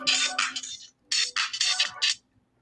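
A phone ringtone plays loud and close as a bright electronic melody in two bursts, with a short pause between them and no talk over it.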